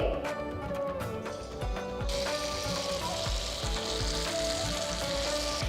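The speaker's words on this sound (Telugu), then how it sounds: "ఇప్పుడు నూనె బాగా కాగింది కాబట్టి ఇంకా మనం పొంగరాలు వేస్తాం మొదలు పెడతాం వేస్తున్నాను" Puli pongaralu batter from Nellore cooking drops into hot oil, setting off a bright, crackling sizzle that grows fuller and denser after the first couple of seconds, with faint rattles and a murmuring voice underneath.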